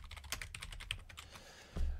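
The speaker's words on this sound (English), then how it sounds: "We can just click on the text tool and type and start typing in" Rapid keystrokes on a computer keyboard while entering text in the Inkscape drawing program, a close, steady run of clicks with a heavier thump near the end.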